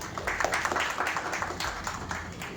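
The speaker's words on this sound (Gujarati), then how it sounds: "આપણે એક વખત તાળીઓથી આ ટીમને વધારીએ" An audience at a journalists' gathering for Devarshi Narad Jayanti claps for a team: a few seconds of brisk, scattered hand claps forming modest applause, fairly close.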